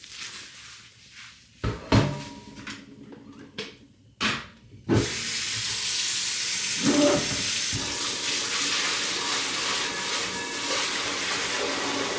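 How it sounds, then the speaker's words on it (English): Water from a tap runs steadily into an empty mixing bowl after tortilla making, preceded by a few sharp cupboard and handling knocks, then a continuous close hiss of pouring water. "I'm gonna get some water in here to loosen up the sides"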